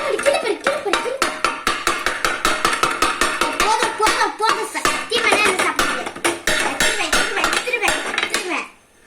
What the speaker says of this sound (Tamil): வாங்க கொத்து போடலாம்.